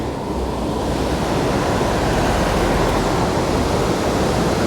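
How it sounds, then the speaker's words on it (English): The River Dee runs high and full near Llangollen, a steady, dense rush of flowing water that holds at an even, fairly loud level throughout, with no voices. "Plenty of water in the River Dee at the moment"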